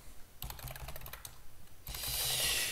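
Rapid typing on a computer keyboard while entering a name during a Lubuntu install, a quick run of close clicky keystrokes followed by a burst of denser clattering, alone and fairly quiet.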